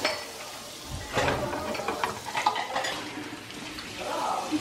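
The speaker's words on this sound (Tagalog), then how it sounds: "gigisahin muna natin itong bawang natin" Garlic sautéing in butter in a pan gives a soft, low sizzle with occasional stirring scrapes and clinks of a utensil against the pan, heard fairly close and without talk.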